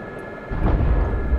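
Rotor and turbine of an SA342 Gazelle helicopter in a flight simulator game, a steady broadband roar that swells louder partway through, close and continuous with no talking.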